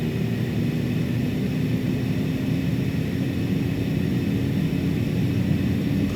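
Cessna Caravan turboprop engine in a flight simulator, a steady, loud droning roar held at full power throughout with a constant low hum and no talking.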